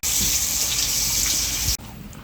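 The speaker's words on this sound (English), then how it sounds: "right now we're just washing our hands really quick" Hands are washed under a running kitchen tap while preparing meatballs, a steady close rush of water that cuts off abruptly near the end, leaving faint room noise.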